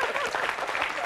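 A studio audience on a French television talk show claps in a dense, steady burst of applause, close and continuous for about a second.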